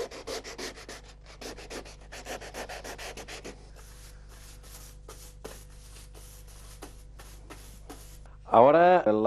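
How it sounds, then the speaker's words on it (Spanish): Repeated rhythmic strokes of sandpaper on a violin's wooden top, sanded by a luthier with successively different grits, brisk scratchy bursts close by, slowing to sparser strokes before a brief voice at the end. "el luthier utiliza lijas de diferente tamaño de grano hasta dejar la tapa completamente pulida"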